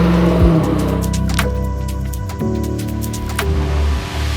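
Land Rover Defender 110 fitted with a 6.2-litre LT1 V8 and 10-speed automatic, its engine note steady and loud with a revving rise and fall, close by, no talk.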